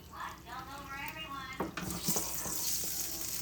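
A steak sizzling as it sears in a hot pan, a steady crackling fry with sharp pops and hissing spatter as the meat is set down, at close range with faint background noise.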